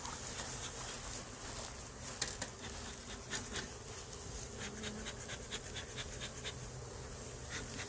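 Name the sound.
honey bees buzzing around a beehive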